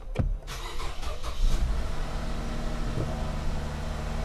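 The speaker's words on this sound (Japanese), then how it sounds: "かけたらエンジンがかかりました。" A Toyota Crown with a failing starter motor cranks briefly and its engine catches, then settles into a loud, steady idle close by with no talking.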